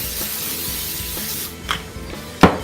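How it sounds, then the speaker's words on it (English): A short hiss of cooking spray onto a bowl, one quick burst and then a longer sharper one, close up over a faint background hum. "I'm going to spray this bowl too."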